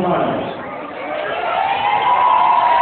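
A crowd at a political candidate's nomination event for a federal electoral district applauds and cheers in a loud, steady wash of clapping and voices that swells toward the end.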